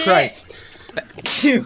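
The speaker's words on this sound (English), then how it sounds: "I'm probably gonna sneeze again." A man sneezes sharply into the mic during a Borderlands 2 co-op gaming session, with a second loud burst about a second later and brief talk between them.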